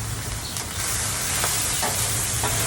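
Onions sizzle on a Blackstone griddle with a steady, loud, close frying hiss and a few faint clicks from the cooking.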